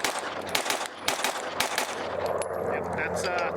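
Rapid string of pistol shots from a Bul Armory PRO 5-inch handgun with an eight-port compensator, loud and close, fired in quick bursts with short gaps between them.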